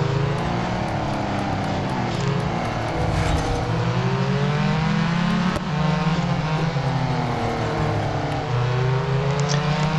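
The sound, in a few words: race cars driving on track in video game Real Racing 3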